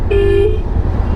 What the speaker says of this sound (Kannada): ಹಾರ್ನ್ ಆಗ್ತಾ ಇದ್ದಾನೆ.